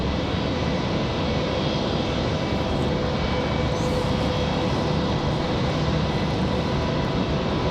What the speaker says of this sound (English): Bit of a rough departure there for the CRJ